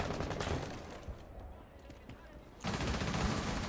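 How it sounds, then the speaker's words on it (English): Gunfire in a competitive first-person shooter match plays as dense bursts of rapid shots, loud at the start, thinning in the middle and then returning in a heavy volley at the end. "looks like Ness is finally gonna go down to a headshot"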